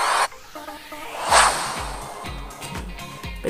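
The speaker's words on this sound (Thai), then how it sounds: "เป็นเสียงลมนะคะเพื่อนๆลองเข้าไปโหลดกันดูนะคะ" A wind sound effect used in video editing gives a brief airy whoosh at the start and a stronger rushing swell mid-clip, over a quiet bed of background music.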